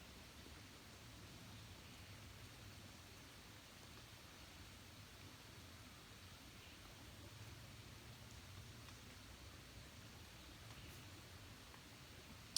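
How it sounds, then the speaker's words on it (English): Evening rain falls steadily around a campsite tent at Sloppy Floyd State Park, a soft, even hiss that stays very faint and unbroken throughout, with no distinct bird call standing out. "You can hear the rain, the creek, and a bird."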